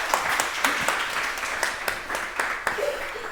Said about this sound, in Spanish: Vamos a aplaudir a María.